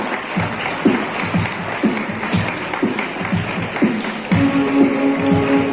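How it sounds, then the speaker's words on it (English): Audience applause at a school oath-taking ceremony for prefects, a continuous patter of clapping in a reverberant hall with distinct louder claps standing out, steady throughout. "Please have a big round of applause."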